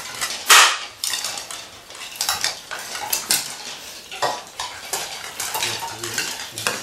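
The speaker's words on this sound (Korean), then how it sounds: "수저랑 손으로 이제 이용해서 큰 그릇에서 다 닦으세요." Dishes being washed and wiped by hand in a large bowl with a spoon: close, continuous scraping, clinking and rubbing of utensils against bowls, with irregular sharper clatters and no talk.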